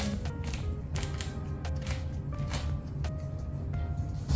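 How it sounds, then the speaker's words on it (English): Weather stripping being peeled off a car door during an at-home vinyl wrap job, giving a steady run of close, dry creaks and small ticking pulls over a constant low rumble. "first peel off this weather stripping for the door"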